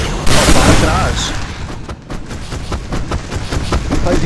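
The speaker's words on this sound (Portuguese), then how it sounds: "a grande explosão" A loud, broadband explosion in the video game Alan Wake Remastered erupts and decays over about a second, followed by rumbling, crackling debris and scattered bursts, with a player talking over it.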